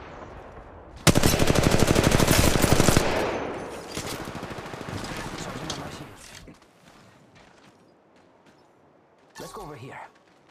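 Apex Legends Mobile firefight: a loud, close burst of rapid automatic fire lasting a few seconds, then lighter shots and a fading tail, with a short final burst and game voice lines heard around it.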